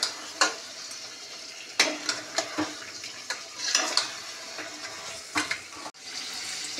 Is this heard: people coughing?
no